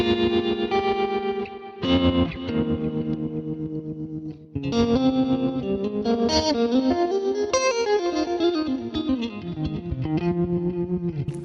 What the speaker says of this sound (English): I like the sound of trem on clean tones, not so much on driven tones.